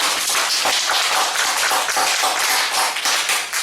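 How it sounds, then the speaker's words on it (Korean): Congregation in a church service clapping together in a dense, steady burst of applause that fills the room, with no voices over it. "하나님께 감사 박수 합시다."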